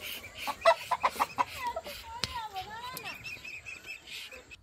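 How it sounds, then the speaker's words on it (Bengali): Local country chickens and a rooster on a village farm on Mousuni Island cluck in a quick run of short calls, fairly close, followed by softer clucking and chirps. "ওই যে দেশি মুরগিটা রয়েছে মোরগ"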